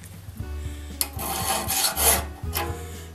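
Metal file rasping on the pointed teeth of a one-man crosscut saw, a few close, loud strokes with sharp starts, over a steady low hum.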